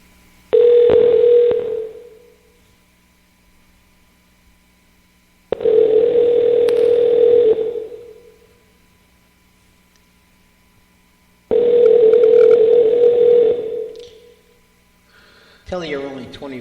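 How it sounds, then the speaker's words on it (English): A telephone ringback tone repeats three times in long, steady bursts separated by silent gaps while a call waits to be answered, with a brief sound of the line being picked up at the end. "I'm going to have to make a phone call to somebody."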